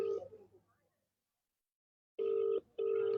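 Telephone rings twice, a steady electronic tone in two close bursts after a short silence, unanswered, with faint talk fading out just before.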